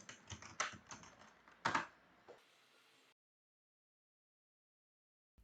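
Quick keystrokes on a computer keyboard entering a command in PowerShell on Windows, a close, clicky burst of typing with one heavier key press, then silence.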